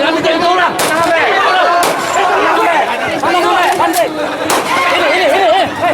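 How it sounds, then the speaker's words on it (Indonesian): Police firing warning shots into the air during unrest at a polling station in Musi Rawas, Indonesia: several sharp loud bangs spaced a second or so apart, over a shouting, chattering crowd. "terpaksa mengeluarkan tembakan ke udara"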